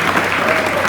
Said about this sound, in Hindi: कृपया तालियों से जोरदार इनका स्वागत करें, अभिनंदन करें।